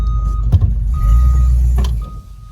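A 1956 Pontiac Fairmont hy-railer car driven on the road gives off a loud, close engine rumble with a steady low drone and a thin tonal whine that fades near the end.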